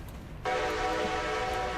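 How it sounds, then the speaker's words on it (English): Steam-style whistle of new engine number 7 in the railroad game Railroader, a loud, steady harmonic tone that starts abruptly after a brief quiet moment and holds to the end, with no talking. "What does number 7's whistle sound like?"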